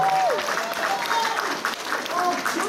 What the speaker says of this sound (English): Can we give a round of applause for the music?